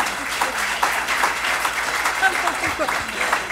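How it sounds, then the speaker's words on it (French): An audience at a fundraising seminar applauding steadily, a dense patter of clapping that continues throughout. "On peut l'applaudir, s'il vous plaît."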